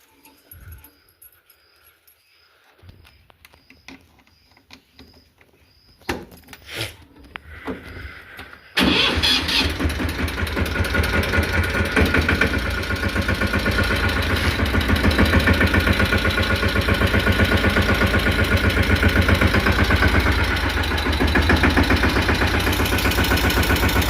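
A Mahindra Yuvraj 215 tractor, unused for six or seven days, is heard first as quiet keys and clicks, then its engine cranks and catches, settling into a loud, steady, chugging idle that runs to the end.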